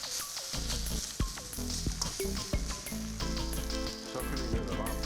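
Steady, loud sizzling and crackling of fried rice and chicken in a hot pan, with clinks and scrapes of a utensil stirring throughout.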